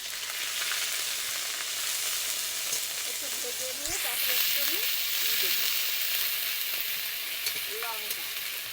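Onion, garlic and ginger paste fry in a pan with a constant loud sizzle and stirring noises, with someone speaking briefly over the cooking.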